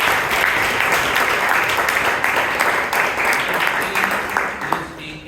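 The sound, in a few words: audience applause at Toastmasters club meeting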